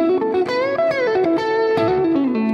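Distorted electric guitar playing a quick, bending lead lick, loud and sustained with gliding pitches, no voices over it.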